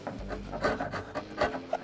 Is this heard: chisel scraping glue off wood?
yes